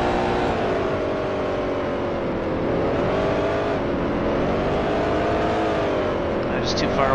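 A racing car engine from the Grand Prix Legends sim drones steadily throughout, a continuous high whine whose pitch wavers gently with throttle, with a faint speaking voice beneath.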